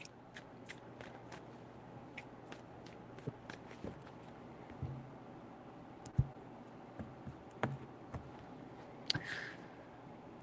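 Tarot cards are shuffled in sparse, quiet bursts of soft clicks and riffles, separated by near-silent gaps, with a few sharper taps close by.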